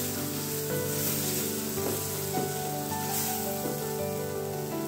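Cubed elephant foot yam and other ingredients sizzle and crackle as they are stir-fried in a clay pot, a continuous hiss broken by a few soft scrapes of stirring, with no voices.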